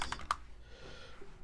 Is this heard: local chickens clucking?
no